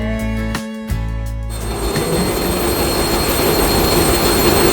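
The engine of the passenger launch M V Tipu-13, on the river run from Dhaka to Bhola, roars as a loud, steady low drone that fills the whole stretch after a brief shift in tone near the start.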